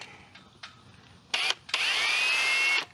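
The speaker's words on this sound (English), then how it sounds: "What I'll do is I'll just drill straight through." A power drill enlarges holes for a 20A external outlet on a Hiker trailer. After faint handling noises comes a short whir, then a longer whirring run lasting about a second, fairly close.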